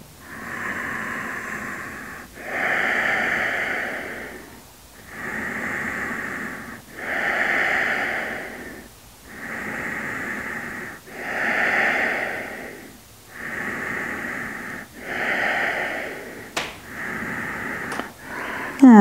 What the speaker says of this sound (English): let's inhale through the nose. Exhale